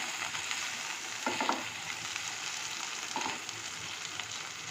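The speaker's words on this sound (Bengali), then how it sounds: "দিয়ে এবার এটাকে ভালো করে একটু ভেজে নেব" Prawn heads seasoned with salt and turmeric fry in a pan, giving a steady, close hiss of sizzling oil, with a couple of brief scraping stirs partway through and no voices.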